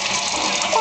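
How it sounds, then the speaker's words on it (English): A household toilet flushes nearby with a short, loud burst of rushing water. "Oh, we don't need the toilet flushed."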